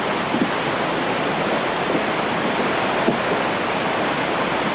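A glacier-fed mountain stream near the Columbia Icefield in British Columbia, a loud, steady rushing roar of flowing water heard close by, with no voices.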